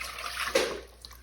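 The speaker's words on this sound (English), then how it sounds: "Then we're gonna pour it in our saucepan so we can bring it up to a boil." Pickling liquid for jalapeños is poured into a saucepan, making a brief close splashing gush of liquid that swells and then trails off into a few drips.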